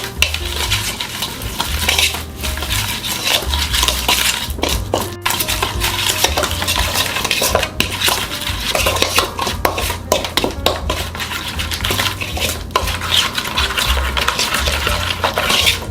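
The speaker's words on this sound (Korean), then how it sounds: "설탕도 1스푼 넣어서 같이 섞어주세요." Garlic, sesame oil and sugar being mixed together in a bowl for a spinach salad dressing: continuous close scraping and clinking of a utensil against the bowl in quick, repeated stirring strokes.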